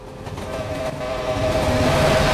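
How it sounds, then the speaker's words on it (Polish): A train rolls along the tracks in a horror video game with a steady, swelling rumble and a faint sustained whistle tone that grows louder as it nears, without any speech over it. "bo jedzie pociąg! Czekam aż przejedzie"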